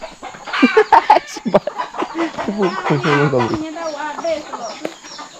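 Chickens cluck and chatter nearby in a loud, busy burst of squawks and throaty calls, trailing off into softer clucking.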